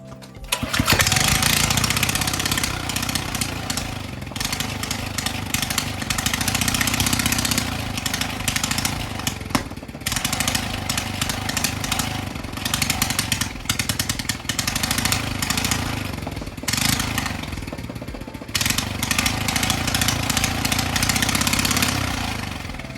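Small engine starts and runs loud and close with a rough, steady idle, then revs in bursts as the throttle is tested, with no talking throughout.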